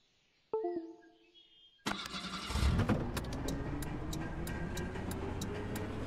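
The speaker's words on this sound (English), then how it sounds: "The bus is reversing for some reason." Bus engine in Bus World, a simulator, with a few short chimes or clicks and quiet sounds at first, then a sudden engine start settling into a steady low idle, overlaid with regular ticking like a reversing indicator.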